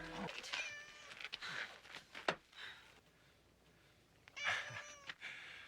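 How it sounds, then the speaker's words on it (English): A cat meows in a scene from the 1993 horror film Leprechaun, with several distinct, fairly loud cries spread across the clip and brief gaps between them, and no talking. "It was a cat."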